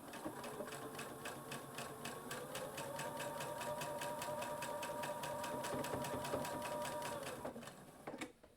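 A sewing machine runs steadily while quilting, with a fast even rhythmic stitching clatter and a motor hum close by for several seconds before it stops.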